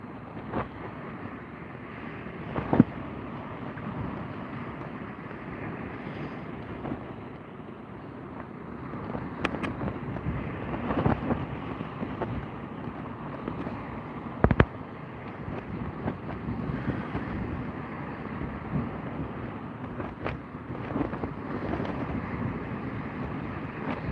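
Steady wind and moving tide wash around a sea kayak out fishing, a constant broadband rush with a few sharp knocks and bumps against the hull, no voices.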